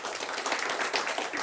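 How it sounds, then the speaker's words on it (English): A crowd's round of applause for a man named Eric at a talk, a brief dense patter of clapping, fairly faint and steady for a moment with no voice over it. "Give him a round of applause."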